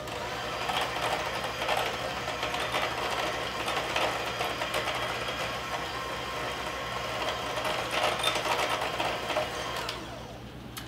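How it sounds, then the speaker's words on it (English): An electric mixer beats egg and vanilla into a sugar and butter mixture for cookie dough, a steady close whirring drone with a rattling, knocking texture that runs almost the whole time before easing off at the end. "we're just going to mix the egg and the vanilla into the sugar and butter mixture"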